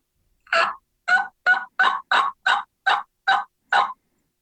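Nine short, evenly spaced calls ring out clearly against silence, a rapid rhythmic gobbling series from a single wild turkey.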